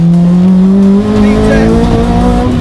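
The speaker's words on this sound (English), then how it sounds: "As soon as you're in the VTEC mode, all hell breaks loose" A K20-swapped Honda Integra Type R DC2 engine revving hard in VTEC, a loud, rising high-rpm howl with a brief dip as a shift comes, heard from close by.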